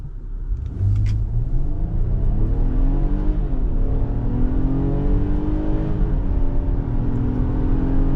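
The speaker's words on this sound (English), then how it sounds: "Those upshifts, as you can hear, are a little slow" A 2023 Infiniti QX60 Luxe AWD accelerates hard from a stop under manual paddle control, its engine droning loud and steady as the pitch climbs, then drops through a couple of slow, drawn-out upshifts.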